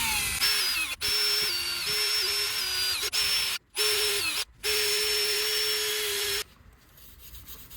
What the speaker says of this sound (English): use a wire brush adapter in your drill and clean the hub surface